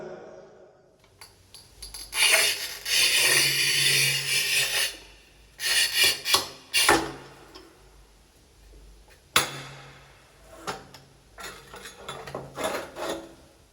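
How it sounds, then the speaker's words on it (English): A manual tile cutter scoring and snapping a floor tile, with long gritty scraping strokes followed by sharper rasping and clunks, close up and without speech. "If it's a big part, we can do it manually with a tile cutter."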